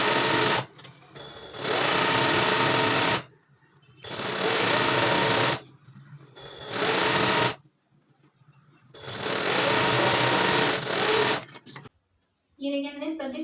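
Sewing machine stitching the side seam of a pant-style trouser, running in four long loud bursts of steady whirring separated by short pauses, with some talk in the gaps.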